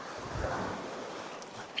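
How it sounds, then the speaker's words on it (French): Wind rising over the sea at a fishing spot on Réunion, a broad rushing gusty noise with surf wash and buffeting against the microphone, steady with slight swells. "parce que le vent se lève"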